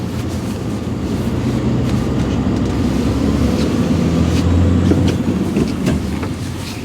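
A Daewoo Maximus 4x2 dump truck with a manual ZF gearbox drives along, a steady, loud low engine and road rumble heard from inside the cab with faint rattles and no talking.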